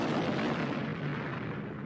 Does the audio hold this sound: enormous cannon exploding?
yes